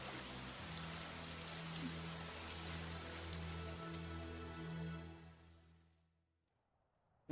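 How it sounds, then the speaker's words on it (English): Steady rain hisses and patters across a broad wash for about six seconds, with low tonal music underneath, before fading out into near silence at the end of a ball. "A convenient rain timing."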